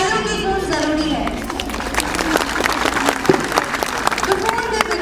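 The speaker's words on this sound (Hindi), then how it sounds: "उनका उत्साह बढ़ाने के लिए तालियों की गूंज जरूरी है." Applause at a school science exhibition, a steady dense wash of clapping from the audience throughout, fairly loud with crowd murmur mixed in and no speech.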